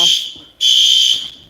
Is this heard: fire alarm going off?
yes